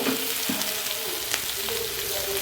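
Roasted coriander and cumin powder being stirred into vegetables frying in a pan over a medium-low gas flame, a steady close sizzle with occasional scraping strokes of the spoon.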